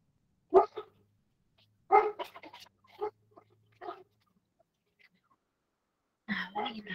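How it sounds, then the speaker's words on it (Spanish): A small dog barks in a classroom setting, several short yappy barks spaced out over a few seconds, close and clear, with a brief whisper and a faint background hum between them. "Voy a callar el perrito"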